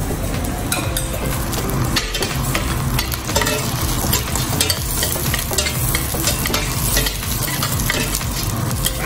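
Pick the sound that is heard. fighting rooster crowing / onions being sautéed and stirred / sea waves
onions being sautéed and stirred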